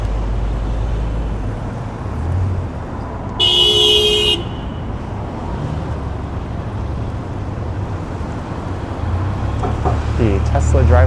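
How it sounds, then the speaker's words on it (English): A Tesla's horn gives one clear honk of about a second in Toronto city traffic near the waterfront, rising over a steady roar of road noise and passing cars. "The Tesla driver honked at that person for not making a dangerous right turn."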